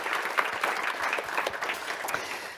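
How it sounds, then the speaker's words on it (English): Audience applause at a startup demo day event, a lively crowd clapping with distinct individual claps audible in an even, moderately loud patter throughout. "One more applause and welcome to all of you."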